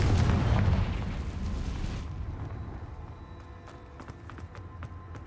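A Confringo fire spell blasting in Hogwarts Legacy, a loud booming burst at the start that rolls off into a fading rumble, followed by faint ticking game sounds.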